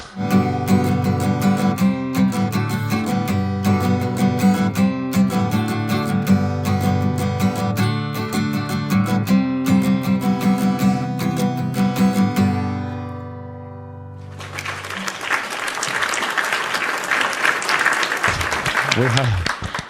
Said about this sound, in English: That's some real clapping over the sound effects of the claps.